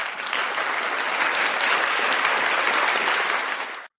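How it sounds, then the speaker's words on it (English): Dense burst of clapping from a crowd, steady and loud for a few seconds before cutting off abruptly. "we'll just have to deal with applause"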